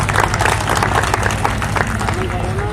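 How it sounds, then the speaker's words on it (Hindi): An audience claps at a political rally, a loud, close, dense patter of hands that runs without a break, with crowd murmur and a voice under it. "अभी आप ताली बजाते हैं"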